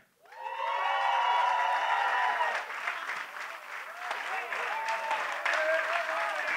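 An audience at a closing ceremony for a charity cycling event bursts into loud, sustained applause with some cheering voices, a dense wash of clapping that holds steady for several seconds.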